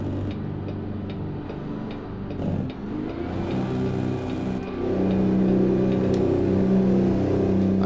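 A heavy-haul truck pulling a big 70-ton trailer in American Truck Simulator rumbles as it accelerates, a low, steady engine drone that swells slightly louder toward the end, with faint ticking over it and no talking.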